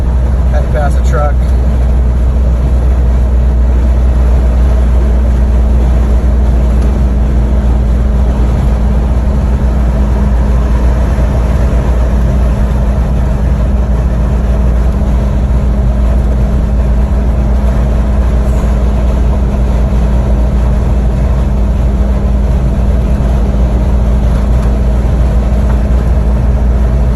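A 2004 Land Rover Discovery 2 with Detroit lockers and 4.43 gears cruises steadily on a freeway in a high gear, its engine a constant low drone with road rumble, while someone talks over it throughout.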